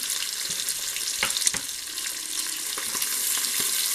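Garlic and onions fry in a pan, giving a steady sizzling hiss broken by a few sharp pops and clicks of stirring, close and moderately loud with no talking.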